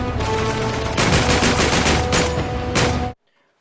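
Gunfire in the video game Uncharted 3 rattles in loud, dense bursts of rapid shots, with several distinct volleys before cutting abruptly to silence.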